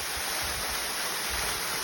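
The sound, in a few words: waterfall at Tukad Cepung, Bali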